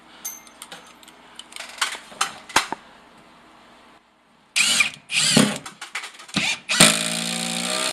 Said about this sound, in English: fasten this top plate into this joist